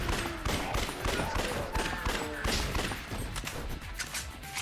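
Rapid gunfire from Akiyama's twin pistols in Yakuza: Dead Souls, dense overlapping shots and impacts in a busy, continuous barrage without talk.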